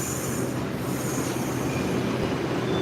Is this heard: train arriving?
yes